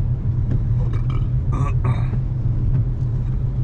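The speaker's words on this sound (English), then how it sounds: "Ooh, I'm burping." A person lets out a couple of short, throaty burps in close succession over a low, steady rumble, like a vehicle engine idling in the background.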